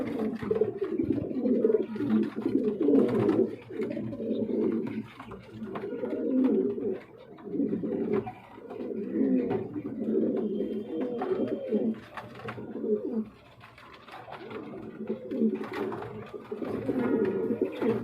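A pair of running pigeons coo in repeated low, throaty phrases, loud and close, with only short pauses between bursts and no other sounds standing out.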